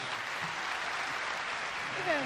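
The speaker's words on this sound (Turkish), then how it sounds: "Bütün starlarımıza bir alkış alabilir miyiz hep beraber?" A television studio audience on a Popstar show applauds for the stars, a steady wash of clapping that carries on evenly, with a voice briefly heard near the end.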